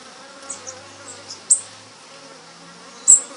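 Bees buzz around cups of sugarcane juice at a street stall, a faint steady hum with several louder passes close by, strongest around midway and near the end.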